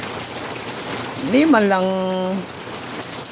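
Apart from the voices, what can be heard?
rain falling on a waxed Nmax scooter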